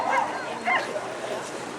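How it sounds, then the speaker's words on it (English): Sled dogs in Alaska giving excited, high yips and short barks close by, layered over a continuous noisy outdoor background. "great watching these dogs do what they love"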